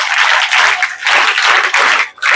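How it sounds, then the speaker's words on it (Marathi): Audience applause after a speaker's call at a school function at a Model Public School, dense broadband clapping filling the whole stretch loudly in bursts with brief dips, no talk over it. "टाळ्या वाजवा."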